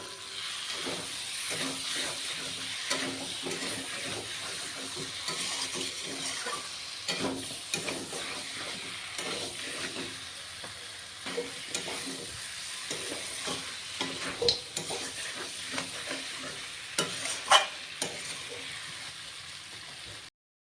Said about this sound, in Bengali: মাংসটাকে কষে নিয়েছি এখানে